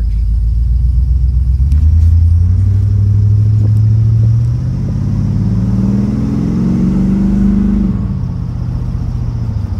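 A 2000 Chevrolet C3500 truck with a 5.7 liter Vortec engine drives with a loud, steady rumbling drone inside the cab. The pitch rises as it accelerates, then eases off and dips near the end.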